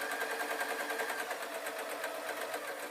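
Sewing machine stitching fabric for a bunny puppet, a steady rapid mechanical whirr with even needle rhythm, fairly close and alone without talk.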